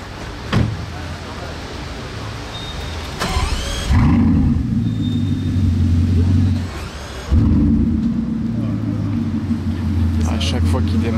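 A Bugatti supercar in Paris pulls away with a deep rumbling engine note that rises in two loud bursts of acceleration, with quieter traffic noise between them and voices nearby.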